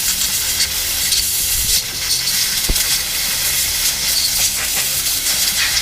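Compressed air blasts steadily across a removed Stihl 039 chainsaw carburetor, a loud continuous hiss that rushes on without a break for several seconds, close up.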